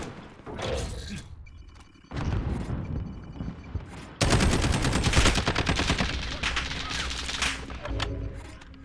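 Bursts of video-game gunfire from the player's own weapon, loud and close, with rapid repeated shots growing denser and heavier partway through and continuing to the end, with no talk over it.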